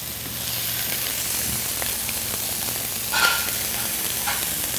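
Scallops sear in a hot pan on a barbecue side burner, giving a steady, close sizzle with a few sharper pops and splatters.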